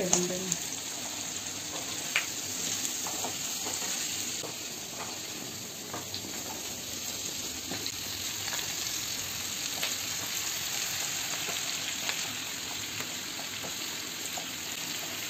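Turmeric powder and spices sizzle steadily in hot oil for a malabar spinach and fish dish, a continuous close frying hiss with occasional stirring clicks and faint background voices.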